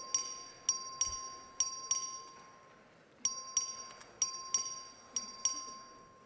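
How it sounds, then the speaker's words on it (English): A record vote bell rings in the Texas House chamber, sounding as a series of bright, clear dings in irregular clusters with short pauses between them. No one speaks over the ringing. "The clerk will ring the bell."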